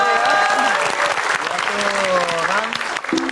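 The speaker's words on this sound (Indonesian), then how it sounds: "tepuk tangan buat Bang Jelani ya" Studio audience applauding on a TV quiz show, steady clapping throughout with a host's voice talking over it.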